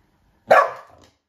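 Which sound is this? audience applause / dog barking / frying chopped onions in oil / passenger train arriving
dog barking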